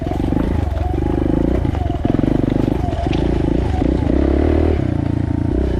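A Suzuki DR 200 big bore motorcycle rides slowly in first gear, its loud close engine a rough continuous rumble and roar with clattering, and a voice speaks over it at times.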